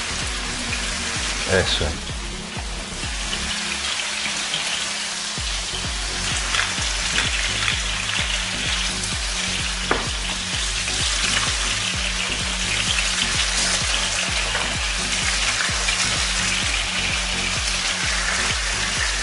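Pork cheeks searing in a pan alongside onion and vegetables, a steady loud sizzle and crackle with scattered pops, close up, while someone speaks briefly over the frying.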